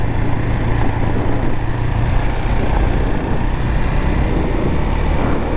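A Husqvarna Svartpilen 401 on knobby tires rides a gravel road, giving a steady, loud, unbroken roar of engine and wind with a low rumble and no pauses.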